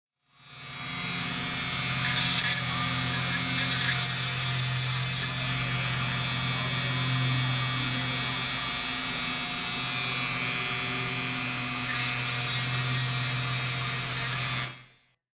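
A small handheld rotary tool spins at 4,000 RPM while preparing 28mm miniature figures, giving a steady, close electric whine for several seconds, with brief harsher grinding bursts near the start and end.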